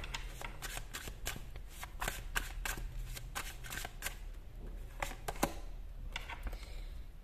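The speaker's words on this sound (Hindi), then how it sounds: "मैं 2 कार्ड्स नहीं लेना चाहती थी गाइस, इसलिए मैंने वापस से शफल किया है।" Tarot cards being shuffled close up, a quiet run of rapid riffling flicks and soft slaps repeated in uneven bursts, alone without talk.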